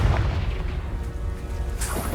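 A Confringo spell explosion in Hogwarts Legacy gives a short, loud, low boom with a rumbling tail and a sharper burst near the end, with no talking.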